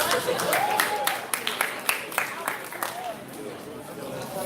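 Audience clapping at a certificate ceremony, a short burst of scattered hand claps from a modest crowd in a room, fading out after a few seconds as a voice speaks over it.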